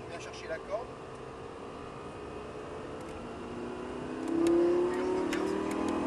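Lamborghini Gallardo Superleggera accelerating on a track, engine heard from inside the cabin with a steady drone that swells into a louder rising note near the end, while a voice talks over it.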